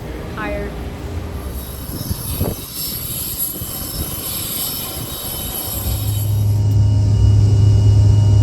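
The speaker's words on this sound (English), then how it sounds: "looks like our plane finally arrived" A plane arrives at an airfield, its engines giving a steady high whine over broad roaring noise. A deep low drone swells and grows louder toward the end.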